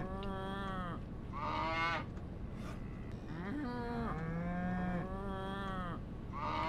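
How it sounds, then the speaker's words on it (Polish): A cow lows repeatedly, giving several drawn-out, fairly close moos one after another over a steady background, with some honking, goose-like calls and no speech. "Tu coś jest. Krowa."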